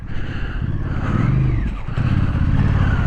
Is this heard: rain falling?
no